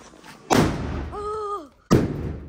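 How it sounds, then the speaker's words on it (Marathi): Two sharp firecracker bangs about a second and a half apart, each with a crackling tail, set off at close range outdoors during a festive night, with a brief whistling tone between them. "मी ना फटाके फोडण्यासाठी खाली आलोय"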